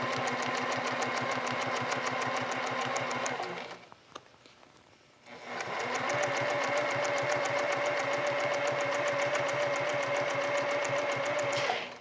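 A sewing machine free-motion stitches along a quilting ruler with a fast, steady mechanical whir and rapid needle ticking, pausing briefly midway before starting up again and running close and clear.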